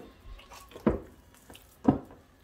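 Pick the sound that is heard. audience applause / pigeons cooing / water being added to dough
water being added to dough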